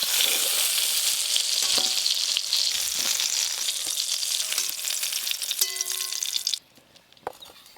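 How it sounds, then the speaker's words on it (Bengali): Soft eggplants fry and get stirred in a pan for a village-style fish curry meal, a steady loud sizzle with occasional scraping stirs that stops abruptly near the end, leaving near quiet. "এই বেগুনগুলো একদম নরম বেগুন, হালকা করে একটু নেড়ে নিয়েছি, এবার তুলে নেব।"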